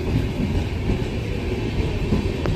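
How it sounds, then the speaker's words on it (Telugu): A Santragachi train pulls out from a platform at Chittoor station, its steady loud rumble and rail clatter close by and filling the whole stretch without voices. "సాంత్రగచ్చి ట్రైన్ అయితే వెళ్ళిపోతుంది."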